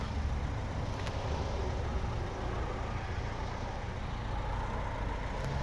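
Volvo V60 Summum 2011 with a 1.6 D2 diesel engine idling steadily, a continuous low rumble held close and even throughout with no voices.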